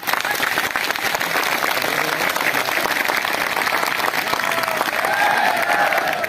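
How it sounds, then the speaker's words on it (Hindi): A crowd of supporters applauds continuously at a political rally, a dense, loud, even clapping that holds steady throughout with a faint murmur of voices underneath. "भाई दिल से तालियां बजा दो नेताजियों के लिए, तालियां बजा दो"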